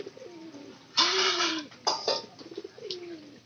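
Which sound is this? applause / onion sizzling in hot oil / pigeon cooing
pigeon cooing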